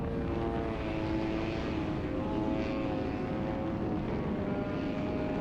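A 78-inch Extra 260 RC plane with a 35cc gas engine drones steadily in a flat spin, the propeller buzz heard close and continuous from an onboard camera, no talk over it.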